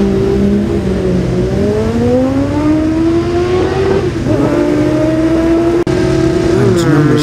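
Superbike motorcycles, Kawasaki and Suzuki among them, racing past at the Classic TT, with high engine whines rising in pitch, one bike after another roaring by close, while a commentator talks over the noise.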